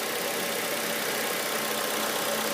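Swapped engine in a 2002 Honda CR-V idling with an incorrectly adjusted idle, a steady broadband hum and faint rattle, continuous and close.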